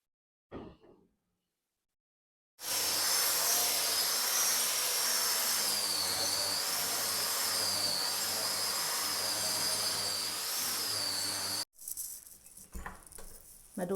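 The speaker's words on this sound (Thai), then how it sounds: "ก็จะขอดูดฝุ่นตรงนี้ต่อเนาะ" A vacuum cleaner starts abruptly and runs with a loud continuous whine and roar for about nine seconds, then cuts off, followed by faint handling noise.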